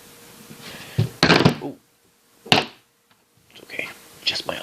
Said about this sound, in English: Just my IPV getting knocked over.